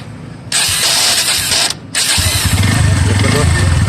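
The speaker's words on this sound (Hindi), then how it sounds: "अब हम सेल्फ मरवाते हैं, आवाज़ दिखाते हैं दोस्तों आपको।" A Bajaj Pulsar NS160 motorcycle's electric self-starter whirs as it cranks, cuts off briefly, then the engine catches and settles into a loud, close, throbbing run with a pulsing low rumble.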